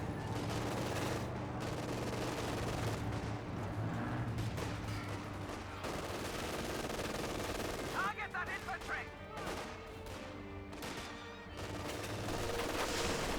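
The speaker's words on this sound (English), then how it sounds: "Oh, we got now the incendiary rounds being fired away." Incendiary rounds and MG42 machine-gun fire in the battle game Company of Heroes 2, dense continuous bursts and booms of gunfire at moderate distance, with voices talking over part of the fighting.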